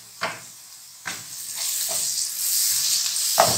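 Tomatoes fry with spice masala for keema in a pan, giving a continuous sizzle that swells over a few seconds, broken by several sharp scrapes and stirs.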